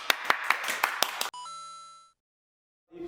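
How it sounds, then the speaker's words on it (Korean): A small group gives a short burst of about six quick, sharp claps. A ringing chime-like tone follows, then near silence. "박수!"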